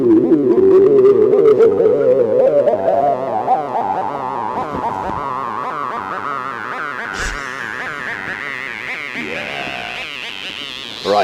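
Buzzy analogue synthesizer tone runs through a band pass filter, the resonant peak gliding slowly upward across about eleven seconds, loud and harsh with a vowel-like quality, and no talking over it.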